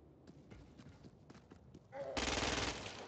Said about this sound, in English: The ordnance you now hold is a standard issue agency assault rifle. Use it to kill the freak, without assisted targeting.